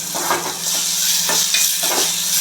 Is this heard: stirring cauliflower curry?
yes